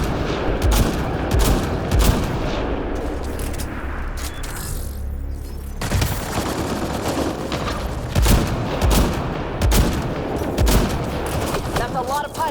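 Sustained gunfire fills a firefight against pirates in Mass Effect Andromeda, loud bursts and repeated shots crackling over booming impacts, with occasional talk underneath.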